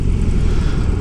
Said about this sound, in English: when you rev this thing, it really pulls the front tire, pulls the whole bike over